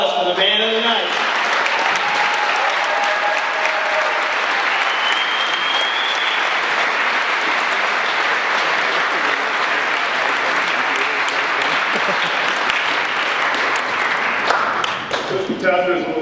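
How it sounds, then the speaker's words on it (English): Sustained, loud applause from a packed room of about 400 people greeting Adam Breneman, dense clapping filling the whole stretch with cheers and a voice briefly at the start and end. "let's give a big round of applause for the man of the night"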